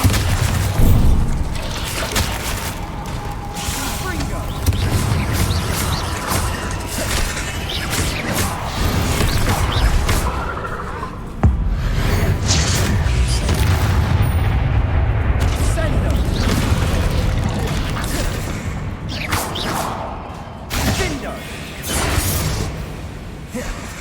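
Continuous booming blasts and crackling impacts from Bombarda and other combat spells in Hogwarts Legacy, loud and dense for the whole stretch with a few sharper bangs.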